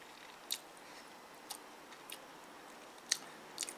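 Noodles eaten with three kinds of balls, close-up ASMR style: soft, sparse crunchy chewing clicks and bites at irregular intervals over a quiet background, with no talking.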